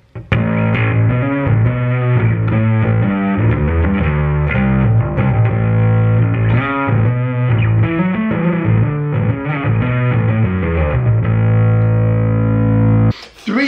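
An electric bass plays a riff through a Darkglass Alpha Omega distortion pedal set to a blend of its two voicings, thick, gritty and sustained, close and loud, ending abruptly.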